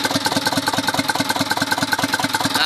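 Isuzu Elf truck's 4HL1 diesel engine idling steadily after a long layoff, a loud, close, rhythmic low chug with even repeating knocks and no voices.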